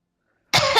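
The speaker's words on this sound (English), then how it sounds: "Coughing." A single short, harsh cough bursts out after half a second of silence, close and loud, during an online tabletop roleplaying session.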